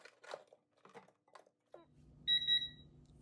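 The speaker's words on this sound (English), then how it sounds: "And there goes my timer. Timer's done." A few soft clicks and taps, then an electronic timer beeps twice loudly over a low steady hum.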